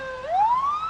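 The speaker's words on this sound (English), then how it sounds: "you've got sirens going around" A police car siren sweeps upward in a single rising wail, heard from a moderate distance in a street setting.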